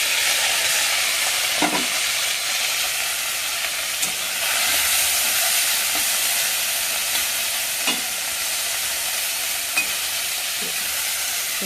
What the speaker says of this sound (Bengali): কড়াইতে তেল দিয়ে আমাদি মাছগুলো দিয়ে দিলাম।